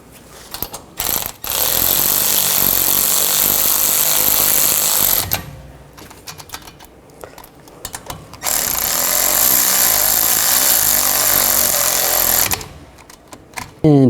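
A ratchet or power tool works on the front brake caliper bolts of a 2005–09 Volkswagen Jetta, with loud sustained mechanical whirring bursts broken by short pauses and clicks, close up.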